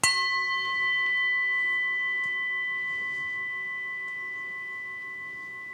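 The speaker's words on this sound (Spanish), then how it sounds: "Vamos a escuchar una campana." A single bell struck once, its clear ringing tone sustaining and slowly fading over several seconds with no one speaking.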